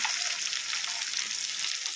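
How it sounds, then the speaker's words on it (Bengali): Soft, steady sizzling of cauliflower and potato frying in a pan, a gentle continuous crackle heard alone at low volume. "ভাজা ভাজা করে নিলাম"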